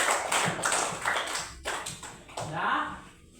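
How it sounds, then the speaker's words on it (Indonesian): A classroom group claps after presenting its reflection results, with a short burst of close applause mixed with overlapping voices and tapping. "Ya, tepuk tangan."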